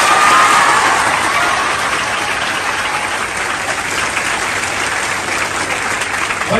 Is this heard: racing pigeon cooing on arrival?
no